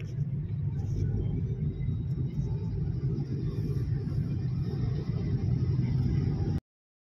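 A car cruising on a highway in third gear with a manual clutch, giving a steady low engine rumble and road drone from inside the cabin that carries on evenly and then cuts off abruptly.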